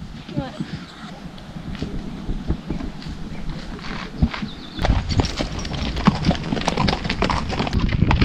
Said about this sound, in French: Oh, cheval